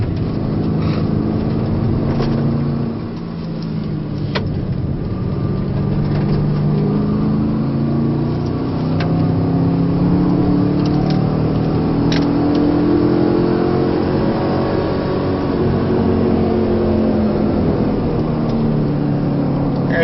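A Camaro or Corvette accelerates down the back straight of the Spring Mountain Motorsport Ranch track, heard from inside the car as a loud, continuous engine roar that climbs steadily in pitch, with one brief dip, and no talking.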